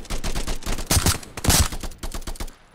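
Rapid bursts of gunfire in a VR shooter game, clusters of punchy shots with a few heavier booms, fairly loud and continuous for a few seconds.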